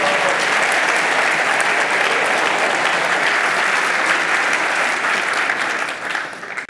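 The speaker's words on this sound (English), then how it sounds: "Usually I get applause at that point." An audience at a talk breaks into loud, dense applause that holds steady for several seconds and then tapers off near the end.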